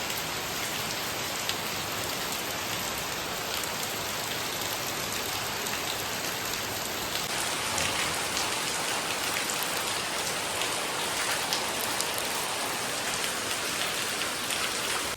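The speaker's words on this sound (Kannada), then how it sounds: "ಮಳೆ ಬಂದದ್ದೇ ಬಂದದ್ದು" Steady, dense rain falls continuously on a surface nearby, a constant even hiss with no voices.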